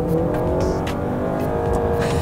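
A 2021 Honda Accord Hybrid accelerates under heavy throttle, with its gas engine and electric motor working together. The engine roar is loud, dense and sustained, and no one speaks.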